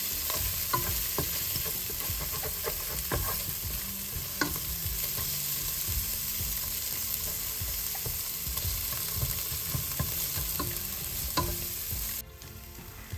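Slit green chillies with mint and coriander leaves sauté on a low flame in a pot, giving a steady, dense sizzle with frequent scraping stirs throughout that cuts off abruptly near the end.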